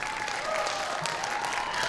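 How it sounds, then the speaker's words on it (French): Thunderous applause at a hearing in the Capitol, a brief, dense wash of many people clapping together, steady and full throughout. "son audition s'est soldée par un tonnerre d'applaudissements"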